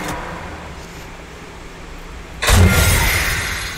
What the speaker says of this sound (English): Good thing he has a car.